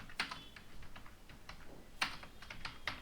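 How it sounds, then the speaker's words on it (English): Keys clack on a computer keyboard as code is typed, quiet irregular taps with a few sharper strikes, close and alone. "Right now let me write the code in our file."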